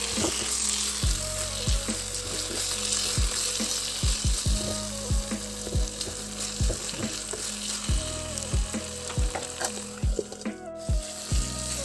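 Mushrooms fry in a pan on a gas stove, with a continuous close sizzle under regular, rhythmic knocks and scrapes of a utensil as they are stirred.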